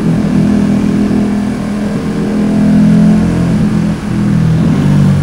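An Italian motorcycle with an Italian exhaust drones loudly and close, holding a steady throaty tone with a slight dip before climbing again.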